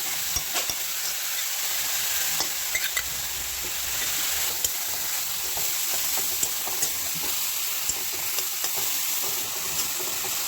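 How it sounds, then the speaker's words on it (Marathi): Grated carrot sautéing in a pan with cashews and almonds for carrot halwa, a steady soft sizzle with light scraping stirs and occasional small taps throughout. "चांगलं परतून घ्यायचं आणि त्याच्यात काजू बदाम पण त्याच्यात घालायचे"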